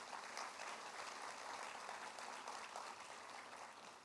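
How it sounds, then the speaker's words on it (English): Audience applause at a Teacher of the Year awards ceremony, steady dense clapping from a sizable crowd, heard somewhat distantly and sustained throughout without pause. "Let's give them also a round of applause."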